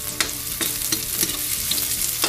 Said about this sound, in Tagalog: Nag-brown na ang ating sibuyas. Ayan, ito na wag lang masunog, guys, kasi papait.